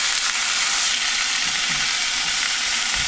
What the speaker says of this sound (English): we're gonna drop some swaggery sausage in our frying pan